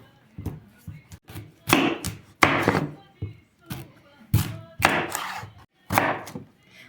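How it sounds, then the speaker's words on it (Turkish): Ingredients for pumpkin plov, including onion and pumpkin, being chopped on a board: a series of close knife thunks and taps in an uneven rhythm, with soft sounds of handling between cuts. "İndi isə doğramağa başlayırıq."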